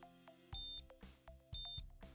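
A Memory-Loc datalogging traceable hygrometer sounds its alarm: sharp electronic beeps in a repeating pattern, with a long tone followed by shorter chirps, clear and close.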